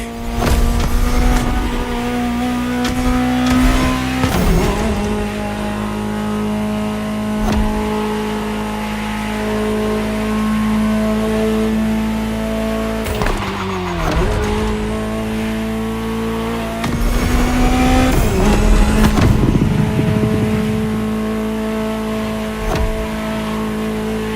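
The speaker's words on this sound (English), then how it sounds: "Just listen to the car you're driving." A Ferrari engine, a car that debuted at the 1984 Geneva Motor Show, revs steadily in The Crew Motorfest. Its loud, sustained tone rises and falls through several throttle blips and gear changes, with no talking.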